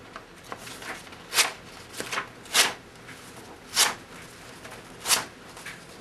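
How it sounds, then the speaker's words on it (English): A sharp Gerber Prodigy drop point full tang fixed blade knife with a black oxide coated blade makes a cut test: five crisp, brushing slicing strokes about a second apart, fairly close and with no talking. "Go ahead and pull out a quick cut test like we like to do."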